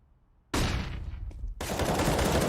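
Gunfire in Counter-Strike on the Overpass map: after a quiet moment, two loud, dense bursts of rapid shots crack out close by, the second running on to the end, with no talking.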